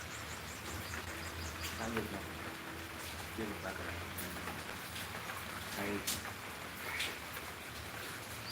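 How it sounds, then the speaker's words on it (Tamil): Heavy rain pours outside, a dense steady patter with scattered louder drips and a faint insect-like hum beneath, continuous throughout with no talking heard. "இங்கே பாருங்க சரியான மழை பெய்யுது வெளியே"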